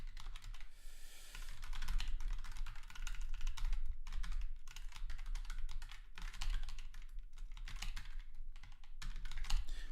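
Rapid typing on a computer keyboard while coding, with dense bursts of close, crisp key clicks broken by brief pauses and no one speaking.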